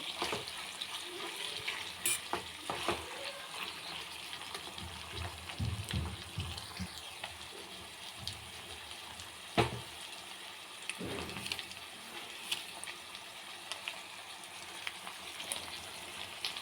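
Bitter gourd pieces being stirred with ginger garlic paste in a pan, a soft sizzle under scattered scrapes and clinks of the spoon at an irregular pace, fairly quiet and without talk.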